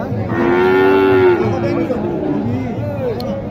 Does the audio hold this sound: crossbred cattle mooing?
yes